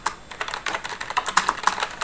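Assembly code is typed on a computer keyboard as a rapid, continuous run of close, distinct keystrokes, with no speech.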